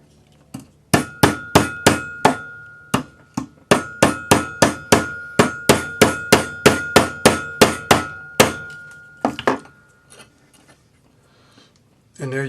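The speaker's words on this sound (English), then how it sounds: "gently hammer it with my rawhide hammer." A rawhide hammer gently shapes a metal earring into a folded leaf on a ring mandrel, giving about thirty close, sharp taps in a steady quick rhythm with a short pause, then stopping to near quiet.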